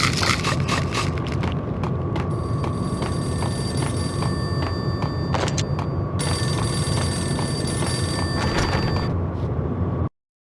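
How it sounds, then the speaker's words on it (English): A payphone rings insistently in the Max Payne video game, its repeated electronic bell trills loud and continuous over a dense background hum. "The payphone started to ring."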